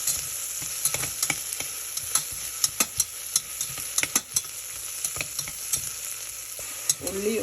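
Onion sizzling and frying in a pan with ginger-garlic paste and tomato, stirred with repeated scraping clicks of a spoon over a steady hiss, close and moderately loud.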